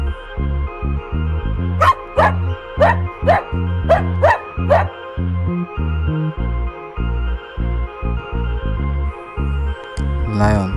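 A dog barks six times in a steady row, sharp and fairly loud over a bouncy looping music backing, with a faint yip near the end.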